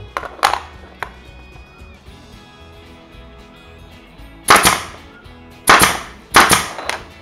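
A nail gun fires into hard wood while a plant shelf is built. Two faint early shots are followed by three loud, sharp cracks near the end, spaced roughly a second apart.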